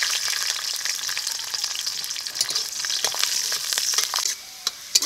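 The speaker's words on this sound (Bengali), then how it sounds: "রসুনটাকে একটু ভেজে নিয়েছি।" Garlic fries in mustard oil in a wok, giving a continuous bright sizzle with crackling pops and stirring scrapes close up, easing slightly near the end.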